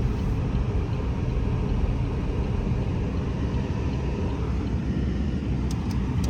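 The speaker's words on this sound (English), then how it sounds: "Vehicles coming." Vehicles passing on an unplowed snowy road about two to three inches deep: a steady, loud rumble of engines and tires on snow, continuous and close, with no voices.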